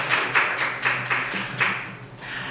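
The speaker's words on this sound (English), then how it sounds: "An applause." A brief patter of scattered clapping at a GUADEC 2024 conference session, a handful of claps in loose rhythm fading out within about two seconds.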